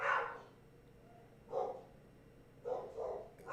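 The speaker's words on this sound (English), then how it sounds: "what are those dogs barking at?" Several dogs bark in short bursts, one near the start and a few more later, moderately distant and interrupted by quiet stretches, with a steady low hum underneath.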